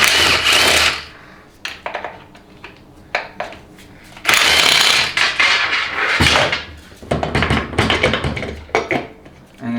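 A power tool, most likely a ratchet or impact driver, removes 15mm bolts from a 4L60E transmission during a teardown. It gives loud close bursts of whirring and clattering with short pauses between them and no talking.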